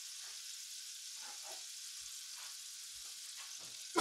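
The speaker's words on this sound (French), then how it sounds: "on va juste les faire revenir comme ça vite fait" Shallots sauté in butter in a pan, a soft, even hiss of frying with a few quiet stirring scrapes and a brief knock at the end.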